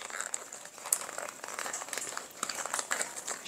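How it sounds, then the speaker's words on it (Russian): A paper sachet of kefir starter culture is torn open by hand, giving close crinkling and rustling with a sharp rip partway through, with no talk. "Вот я вскрываю эти пакетик."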